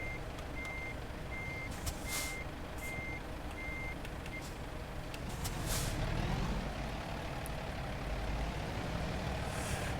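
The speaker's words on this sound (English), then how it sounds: "Hey, truck's rolling." A truck hauling a trailer rumbles with a steady engine drone while a reversing alarm beeps at a regular pace, followed by a hiss of air brakes and heavier rolling noise.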